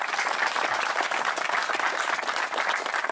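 Brief burst of audience applause at the opening of a new unit, a dense, lively patter of many hands clapping at once, loud and continuous with a slight dip near the end.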